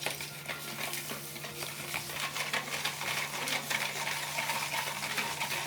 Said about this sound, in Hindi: अब इसमें चीनी मिक्स करेंगे।